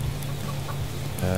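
Chickens clucking in the survival video game Subsistence, faint short clucks under a steady rain-like background hiss, with a slightly louder burst near the end.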